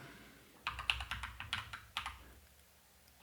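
Rapid, irregular key presses on a computer keyboard while entering a spreadsheet formula in Google Sheets, close and fairly quiet, with short pauses between bursts of typing.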